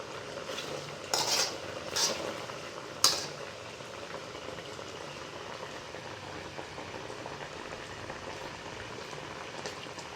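Pumpkin pieces simmer in thickening sugar syrup, a steady soft bubbling hiss running throughout, with a few brief clinks of a utensil against the pot early on.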